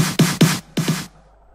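A snare roll built from the VEH Snare 005 sample in FL Studio for a chillout trance track: a few bright, hissy electronic snare hits with tonal bodies, one repeated pair, then an abrupt cut to near silence.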